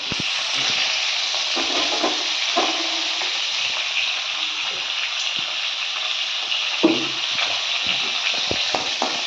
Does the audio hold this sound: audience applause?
no